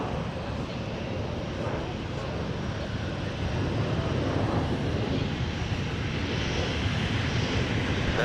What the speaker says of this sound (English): Back to back. Sun Country. 737 800s on Mike.